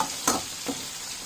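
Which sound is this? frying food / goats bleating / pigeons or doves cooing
frying food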